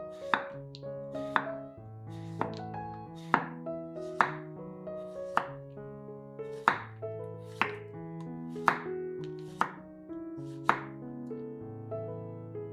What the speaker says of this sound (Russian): Один цукини нарезаем кружочками или полукружочками.